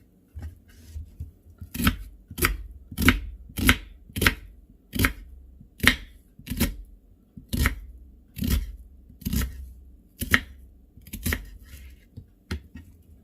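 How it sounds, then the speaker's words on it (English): A knife cuts through a yellow onion on a board, producing about fifteen crisp, evenly paced chopping strokes, close and clear in an otherwise quiet setting. "Let's cut this one in half this way too."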